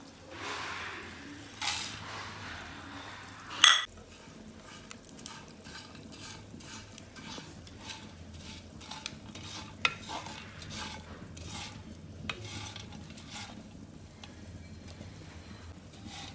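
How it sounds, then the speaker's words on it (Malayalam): Prawns sizzle as they fry in a pan while a utensil stirs and scrapes repeatedly, with a sharp clatter early on; no talking, a steady close kitchen sound. "ഈ ചെമ്മീൻ ഇത് നമുക്കൊന്ന് വറുത്തെടുക്കാം"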